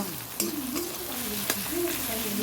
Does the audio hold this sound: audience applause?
no